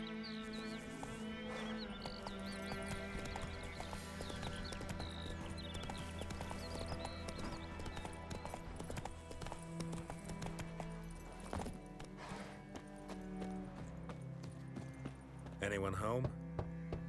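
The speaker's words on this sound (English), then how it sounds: "Why is the horse all the way over there?" Horse hooves clip-clop steadily in The Witcher 3, moderately close, set against dense game music and ambience, with voices talking over parts of it.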